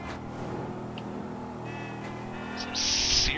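A car in GTA V drives along with a steady engine drone and road noise, growing slightly louder and brighter toward the end, with no one talking.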